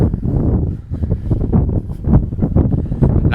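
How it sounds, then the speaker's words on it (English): Outdoor wind blows steadily into the microphone during a dog scent-training session for morel mushrooms, a loud continuous buffeting rumble with gusting swells and no talking. "And I have the wind blowing this way."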